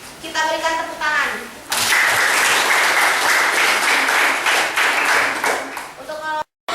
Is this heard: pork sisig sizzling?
no